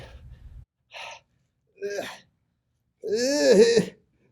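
Several short breaths, then one long, deep, voiced gasp that swells and falls near the end, close and fairly loud with quiet gaps between.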